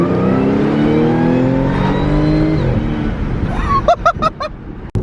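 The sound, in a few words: Audi S4 modified exhaust revving at high RPM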